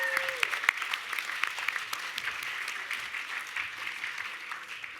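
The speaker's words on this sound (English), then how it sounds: "Big round of applause for Uncle John." An audience at the Victorian Aboriginal Honour Roll ceremony applauds Uncle John with a dense, steady patter of many hands, moderately distant, and with a few sharper claps near the start.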